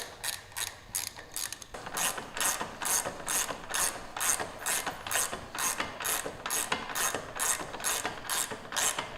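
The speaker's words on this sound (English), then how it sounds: "Now I'm loosening up the pinch bolt for the axle, and I'm going to loosen up the axle." A ratchet loosening the front axle pinch bolt on a Harley-Davidson M8 Softail Breakout FXBR, a loud, close, steady run of rapid metallic clicks repeating evenly throughout with no talk.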